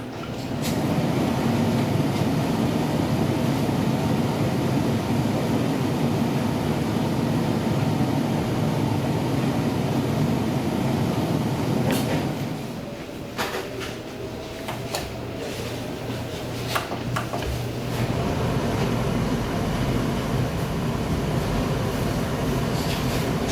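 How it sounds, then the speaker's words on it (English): A kitchen cooker hood runs with a steady, loud fan roar, then after a short break a second unit with noise-reduction technology runs at a noticeably lower, smoother hum, with a few light knocks. "You will see first the cooker hood without our technology, and then one with our technology."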